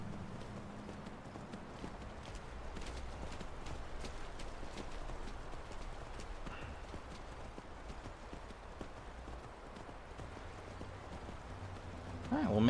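Horse hooves clip-clopping steadily in Skyrim, a quiet continuous rhythmic trot under ambient game sound, with someone talking intermittently.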